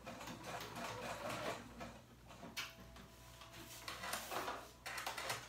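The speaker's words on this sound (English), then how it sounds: "I'm gonna do the same thing on another, just a stitch right there to secure it on" Sewing machine stitching elastic onto paper bag pants, with a busy mechanical whir and rapid ticking of the needle in short runs with brief pauses, close and fairly quiet.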